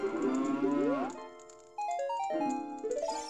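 Cow moos from the video game Ocarina of Time come as a long, low harmonic call, then a short pause and a second stepped, synthetic-sounding moo, loud and clear over a quiet background.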